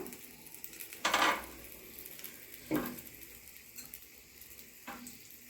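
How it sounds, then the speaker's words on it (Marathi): Stuffed capsicum cooks in a pan and gets turned now and then, giving a faint steady sizzle broken by three scraping clanks of utensil against pan, with no talk. "आपल्याला सगळी मिरची होईपर्यंत अलटत पलटत ह्या मिरचीला शिजवून घ्यायची"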